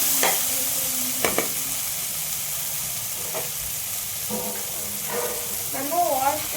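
Ginger garlic paste fries in a pan for chicken gravy, with a constant sizzle broken by scraping stirs and clinks of a spoon, and a voice briefly sounding near the end.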